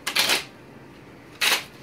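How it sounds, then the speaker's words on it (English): A deck of playing cards shuffled by hand, with two quick riffling bursts about a second apart, close and crisp with near silence between them. "Shuffle them up."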